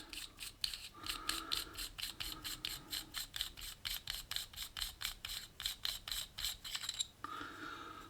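Tuning barrel being screwed by hand onto the end of an HDR.68 gun, giving a close, quiet run of regular ratcheting rasps and thread scrapes, about two or three per second, with no talk.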